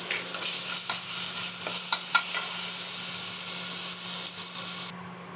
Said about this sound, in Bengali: এর মধ্যে আদা আর দুটো কাঁচা লঙ্কা বেটে রেখেছিলাম, ওটাও দিয়ে দিচ্ছি। দিয়ে এটাকে একটু ভেজে নেব।